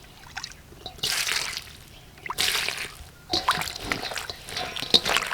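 Running water splashes and trickles over ingredients such as salt, shallots, garlic, tamarind and eggplant being washed outdoors in a forest kitchen, coming in uneven bursts of close splashing between quieter dripping.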